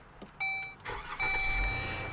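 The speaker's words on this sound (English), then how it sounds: "let's turn on this engine" A 2019 Dodge Journey family SUV engine cranks briefly and catches, settling into a steady idle, heard close up with a chime ringing over the start.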